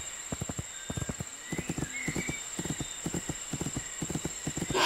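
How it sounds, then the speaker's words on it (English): Galloping horse hooves in the My Little Riding Champion video game on PC, a quick repeated clip-clop rhythm in clustered beats with an occasional brief whinny, close and steady with no talk. "So I use the displayed control again to change to a gallop, and then use it once more to move into the fastest gallop."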